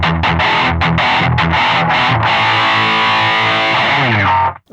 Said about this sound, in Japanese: これメタルゾーンらしいです。